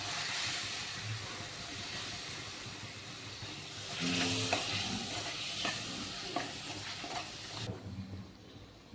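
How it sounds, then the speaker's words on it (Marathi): Ground masala paste sizzles and fries in a kadhai, with steady broadband hiss and repeated scraping stirs of a spoon through the paste; close and fairly loud, no voices. "ते थोडं परतून घ्यायचं त्याच्यात."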